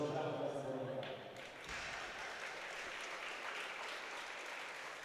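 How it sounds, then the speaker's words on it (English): About a hundred Polish school children applaud in a powerlifting competition hall as a lifter comes to the platform, with steady, fairly faint clapping throughout and a commentator talking over it. "they all applauded when they heard the announcement that Samborski was coming to the platform"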